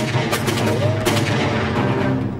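Gunfire in a wartime action film, rapid loud bursts of shots over a constant droning roar of an aircraft engine, with a voice briefly heard in the mix.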